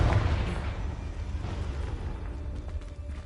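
A Confringo blasting spell explodes in Hogwarts Legacy, a heavy booming blast at the start that rumbles and decays over a few seconds, with no talking.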